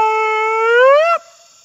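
A single person whooping in the woods as an imitation of a Bigfoot call, one loud sustained voiced whoop rising slightly in pitch for about a second before cutting off, close and alone.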